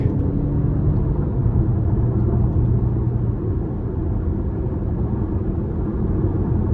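A 2024 Cadillac XT4 Sport AWD with the 2.0T engine pulls hard in sport mode, a steady, low interior drone and road rumble holding for several seconds with no voices.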